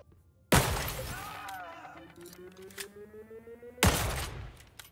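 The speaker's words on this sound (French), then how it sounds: "ça, c'est le bruit d'un snipe dans Deceive." A sniper rifle firing in the video game Deceive Inc., two sharp, thin, crackly blasts about three seconds apart, each decaying quickly, with a faint tonal hum between them.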